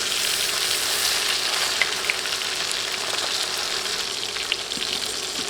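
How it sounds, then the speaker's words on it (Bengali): Fish pieces frying in hot oil in a pan, a steady dense sizzle and crackle that holds the whole time with a few sharper pops, close by and with no voices. "উল্টে দিয়ে এ পাশেও এক দেড় মিনিট ভেজে নিতে হবে"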